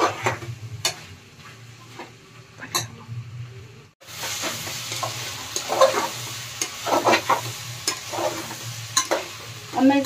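Leftover rice pulao stir-frying in a pan gives a continuous sizzle with frequent scraping and clacking of a spoon, briefly pausing before resuming louder and busier with quick irregular knocks.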